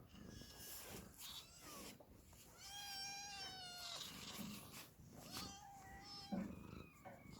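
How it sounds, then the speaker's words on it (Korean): Several house cats meow repeatedly at home, with rising and falling plaintive calls overlapping one another. The calls are fairly faint and sit over a soft indoor background, with brief snorting sounds between them. "우리 개냥이들 우리 개냥이들"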